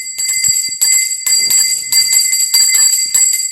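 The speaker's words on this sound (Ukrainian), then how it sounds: "Право дати перший дзвоник у 2022-му 2023 навчальному році надається директору школи Черкащенко Ірині Іванівні." A school bell rings steadily at a first-bell ceremony opening the school year, bright and loud, with short gaps between sustained bursts of ringing and no voices.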